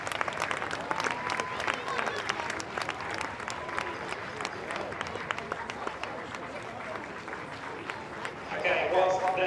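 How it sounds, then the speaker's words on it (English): Sustained applause from a crowd at a school sports day, dense clapping throughout that swells louder near the end. "So lots of applause for them"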